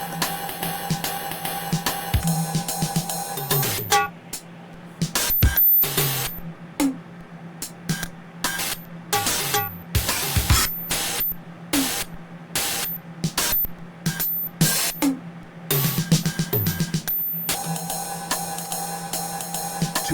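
A circuit-bent Roland TR-505 drum machine with altered sample rate and distortion, spitting harsh glitchy bursts of noise and crunchy stuttering hits in an irregular pattern, loud and close with no talking.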